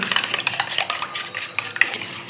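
Egg paratha ingredients stirred together in a bowl, a quick run of close, clattering utensil scrapes and clinks against the bowl, dense and busy, with no voices.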